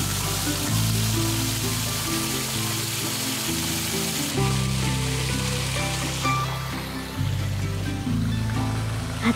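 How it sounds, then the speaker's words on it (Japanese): A waterfall in a German forest, one you can walk behind, gives a steady, loud broadband rush of falling water that runs unbroken and alone throughout, with no voices. "あ、滝がありますよ。"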